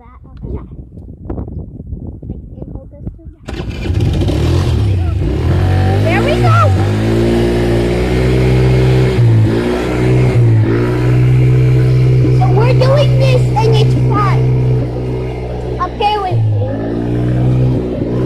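A four-wheeler ATV engine running at a loud, steady drone while being ridden, with its pitch rising and dipping as the throttle changes, coming in abruptly after a few seconds of quieter rustling and clatter.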